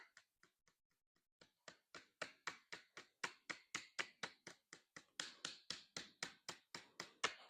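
A hammer lightly taps the edge of a Kydex sheath to round it over, a close, quiet series of crisp ticks that starts sparse and then settles into a steady, even rhythm of about four taps per second.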